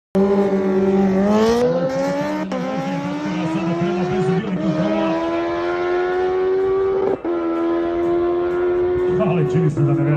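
A Rimac Nevera and a Bugatti Chiron race at speed in a rolling race, giving a loud sustained whine that climbs in pitch through several gear steps, with a commentator talking over it.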